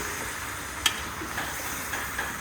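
Water poured into a hot frying pan produces a continuous bright sizzling hiss with a few sharp clicks and pops, fairly close and heard without talk.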